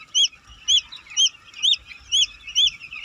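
A chick with four feet peeps in high, repeated chirps at a steady, regular rhythm, loud and close, with faint low rumbling underneath.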